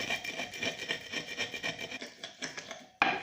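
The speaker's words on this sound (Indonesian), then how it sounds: "yang pertama kita haluskan bumbunya dulu" Spices for coconut serundeng being ground smooth by hand, a steady close rhythmic rubbing and scraping that slows near the end, followed by one sharp knock.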